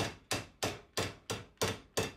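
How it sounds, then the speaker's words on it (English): A soft hammer strikes a metal burner holder clamped in a vise for a model steam plant, seven evenly spaced, fairly close taps each ringing briefly before the next blow. "With a bit more persuasion from the soft hammer, eventually the sides were definitely at 90 degrees to the base."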